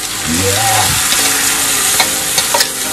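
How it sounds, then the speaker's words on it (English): Glass noodles being stir-fried with japchae sauce in a hot pan, loud continuous sizzling with scraping stir strokes and a few sharp clinks of the utensil near the end. "So keep stir frying it."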